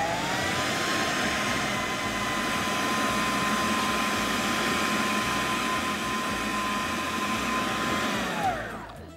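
An electric mixer whirs steadily and fairly faintly as it beats almond butter for cauliflower brownies, a continuous motor drone that winds down right at the end.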